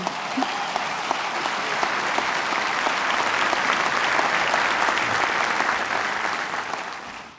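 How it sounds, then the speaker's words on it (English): Audience applause for budget director Bob Megna during a governor's executive budget presentation, with sustained, even clapping from a large room that swells and then fades out over about seven seconds. "Bob Magna, give him a round of applause."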